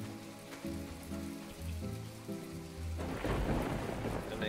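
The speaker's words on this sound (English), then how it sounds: "It's a rainy day." Rain and thunder in the farming life sim My Time at Portia, quiet steady rainfall under a low sustained rumble that swells into a louder crash of thunder near the end, no talk.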